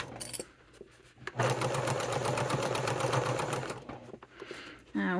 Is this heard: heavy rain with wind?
no